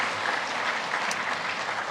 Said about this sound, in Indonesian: Mari kita berikan tepuk tangan dan dukungan pada mereka.